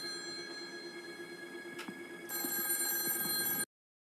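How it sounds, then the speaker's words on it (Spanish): A telephone rings in a Halloween horror scene, a quiet repeating electronic ring that turns louder and brighter partway through and then cuts off abruptly, with no speech. "le llaman por teléfono"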